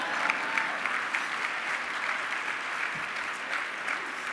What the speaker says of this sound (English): Okay, you could clap for yourselves.